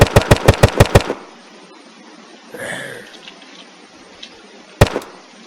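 A Western Front weapon mod in the video game Unturned fires a quick burst of about eight sharp, loud shots in the first second, then a lone shot rings out after a quiet pause.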